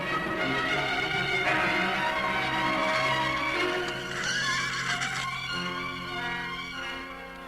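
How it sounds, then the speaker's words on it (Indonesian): A horse whinnies loudly and repeatedly over steady hoof clip-clops, the neighs rising and falling close by throughout with no talking. "Sebaiknya kuda ini ku tinggal di sini saja."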